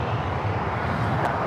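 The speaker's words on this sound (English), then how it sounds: "Looks like we also have the Latama Cargo 767 going to be taken off here on the south side." LATAM Cargo Boeing 767 taking off on the south side at LAX, a steady broad roar of jet engines with wind buffeting the microphone and no pauses throughout.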